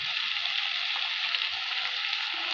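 Chili powder and ground spices fry in hot oil in a pan for a shrimp and teasel gourd dish, a steady bright hiss with faint stirring scrapes, close and continuous with no talk.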